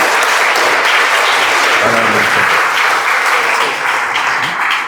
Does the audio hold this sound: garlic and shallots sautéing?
no